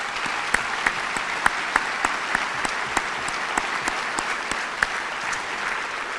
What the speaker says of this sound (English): Let's give our donors a round of applause.